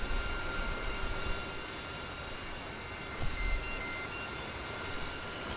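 Steady broadband aircraft engine drone from a plane taxiing on an unfamiliar airfield in a flight video game, continuous and fairly even with a slight swell partway through, no talking.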